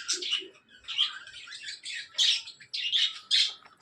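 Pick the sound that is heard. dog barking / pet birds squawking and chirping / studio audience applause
pet birds squawking and chirping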